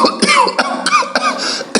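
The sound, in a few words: cough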